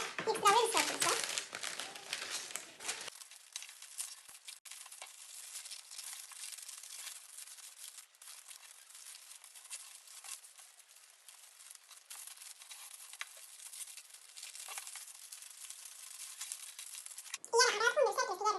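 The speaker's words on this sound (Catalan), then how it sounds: "I ara vaig a retallar i extreure els cercles" Paper rustles and crinkles as circles are cut out and pulled free, a quiet scissor-and-paper handling noise that runs steadily throughout, with louder crumpling bursts at the start and end.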